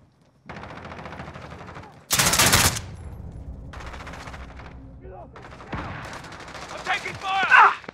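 Gunfire in the Call of Duty Modern Warfare team deathmatch: rapid bursts of automatic shots start and stop, with one loud sharp blast in the middle and voices calling out over the action.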